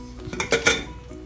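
A pressure cooker pot is opened after cooling from a whistle, with a few quick metallic clinks and clanks of the lid and pot, close and brief.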